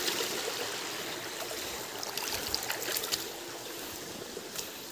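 A stream flows in a steady, soft rush of water, faint and continuous, with slight splashy flickers and no voices.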